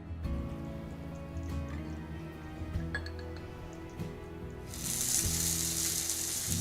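Onions hit about a tablespoon of olive oil in a hot saute pan, a quiet crackle with clinks of utensils, then the sizzle swells into a steady, brighter hiss for the last couple of seconds.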